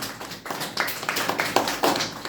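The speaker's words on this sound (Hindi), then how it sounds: "तो हम अरस्तु के लिए ताली बजाएंगे।" A classroom of students claps for Aristotle during a lesson, with a short burst of scattered hand claps and taps that rises and falls over about two seconds at moderate loudness.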